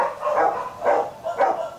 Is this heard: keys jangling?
no